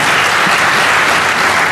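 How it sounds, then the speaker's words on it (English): A DEF CON hacking conference audience applauds first-time speakers, a steady, loud wash of many hands clapping together without a break and with no talk over it. "How about a round of applause for these guys?"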